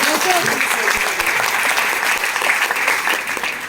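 Audience applause at a business meeting in Nallasopara fills the clip, dense continuous clapping at moderate loudness with voices mixed in underneath.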